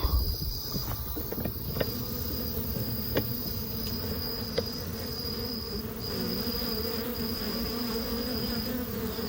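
A dense, steady hum of many bees buzzing overhead in a tree canopy on a goat farm, continuous and fairly loud, with a thin high insect tone running throughout.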